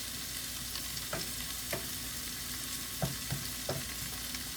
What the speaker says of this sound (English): we're going to let this simmer a little bit with those seasonings on it